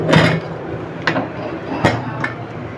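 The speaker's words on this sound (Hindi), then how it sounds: "कुकर का ढक्कन हम बंद कर देंगे।" A pressure cooker lid is closed over kale masoor dal, making a few sharp metallic clinks and clacks spread over a couple of seconds, close by, against light kitchen background noise.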